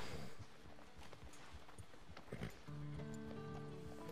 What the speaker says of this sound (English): You can actually brush your horse while still riding it.